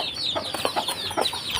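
Several chickens cluck close by in quick, uneven bursts, their short clucks overlapping over a quiet background.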